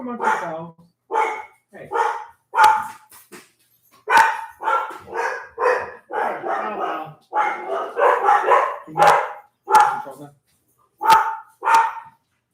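Several dogs bark repeatedly in a home, in loud, close bursts that come one after another with short gaps, mixed with occasional yips.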